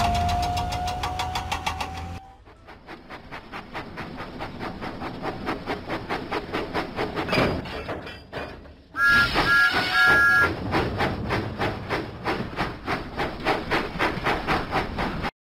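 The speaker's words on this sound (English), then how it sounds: "Thomas pumped his pistons and puffed out of the docks." Thomas the steam engine from a Thomas & Friends video game chuffs steadily, with rhythmic puffs repeating close by, a brief whistle-like tone early on and a louder stretch of hiss partway through, without speech.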